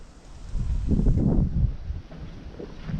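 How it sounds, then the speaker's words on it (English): Gusty wind buffeting the microphone outdoors, a strong low roar swelling in the middle then easing, no voices. "It is kind of windy out here."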